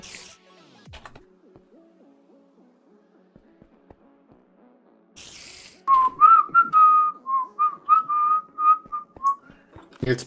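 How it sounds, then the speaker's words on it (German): A person whistles a wavering, bouncy tune in short repeated phrases, loud and close, after a mostly quiet stretch broken by faint game sounds. "Jetzt bitte nicht pfeifen."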